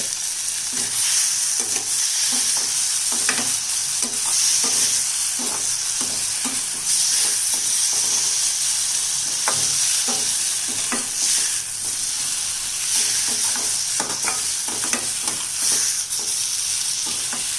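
Quail eggs frying in a hot pan give a steady, dense sizzle throughout, with intermittent scraping and stirring clicks from a utensil on top, close up with no voices.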